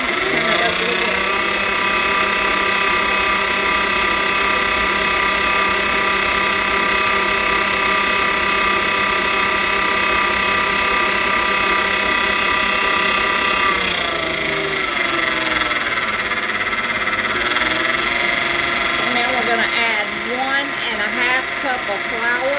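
An electric mixer whirs steadily while beating half a cup of sugar into muffin batter for fruit cake mini muffins. The motor hums loud and continuous, with its pitch shifting partway through as the speed is turned up.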